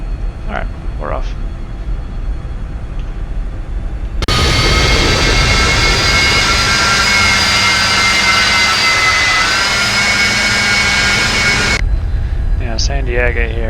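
A Citation business jet's engines roar up for takeoff from a bumpy San Diego runway in X-Plane 11, a loud steady whine and rumble lasting several seconds before cutting off abruptly, with faint voices before and after.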